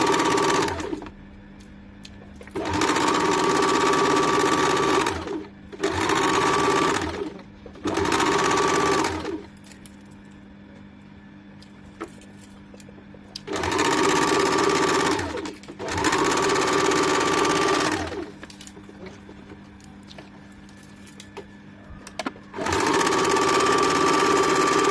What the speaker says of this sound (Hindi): इस तरह से हम लोग दोनों साइड का सिलाई डाल देंगे। डबल सिलाई डालना है।